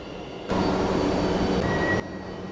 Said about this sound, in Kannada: ಟ್ರೈನ್ ಬರ್ತಾ ಇದೆ ಇವಾಗ. Metro train